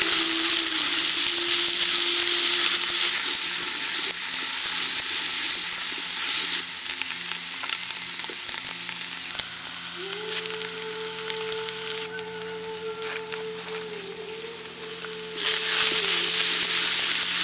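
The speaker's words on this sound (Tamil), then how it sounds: "இப்ப சின்ன வெங்காயத்தை சேர்த்து நல்லா வணக்க ஆரம்பிச்சிடலாம்." Steady, loud sizzling of small shallots frying with curry leaves and ginger garlic paste in hot oil, continuous and close, with occasional stirring scrapes and a faint tonal hum in the background.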